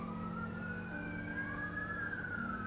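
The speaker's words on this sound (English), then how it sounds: "There's a lot of sirens are going around here." Distant emergency sirens wail continuously, their rising and falling tones layered over a low steady rumble of traffic.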